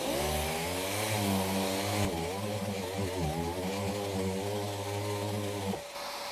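A Milwaukee M18 FUEL 6-gallon cordless wet dry vacuum runs as a dust extractor during sanding, a loud steady motor whine with a shift in pitch partway through before cutting off near the end.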